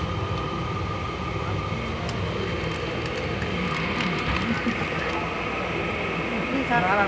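Parabat Express passenger train in Bangladesh, heard from on board as a steady rumbling ride noise with rattling carriage sounds throughout, voices faintly mixed in.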